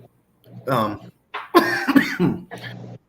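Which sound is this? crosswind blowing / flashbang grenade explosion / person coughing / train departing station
person coughing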